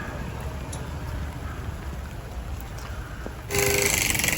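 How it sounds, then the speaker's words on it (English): Rain falls on an outdoor flea market in Dayton, Ohio, a steady patter on tents and surfaces that grows suddenly louder and denser near the end. "And yeah, it's raining."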